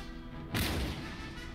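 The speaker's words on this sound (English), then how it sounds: "Get some grape shot on them." A grape shot cannon volley in the battle game Empire: Total War lands as one sudden, broad boom that rises out of a steady battlefield rumble and fades slowly.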